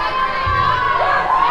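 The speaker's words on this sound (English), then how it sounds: "Far more vocal crowd" A vocal crowd at a youth ice hockey game cheering and shouting, with children's voices prominent, loud and close in a brief continuous burst.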